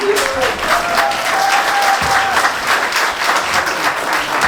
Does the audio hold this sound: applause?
yes